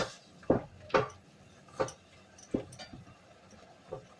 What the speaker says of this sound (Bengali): এটা একটু ভালো করে নাড়িয়ে দিই